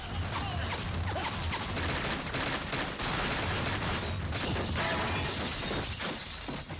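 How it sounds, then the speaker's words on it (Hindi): Sustained gunfire from hidden soldiers during the forest ambush in which the bandit Veerappan was killed, loud, dense and continuous, with cracking, shattering bursts throughout and no pause. "आईपीएस विजय कुमार के इशारे से छिपे हुए जवानों ने लगातार 20 मिनट तक फायरिंग की"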